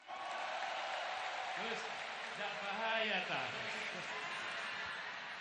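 Broad applause from a crowd of volunteers at an outdoor political gathering in front of a stage, sustained and fairly loud, with a voice talking over it partway through.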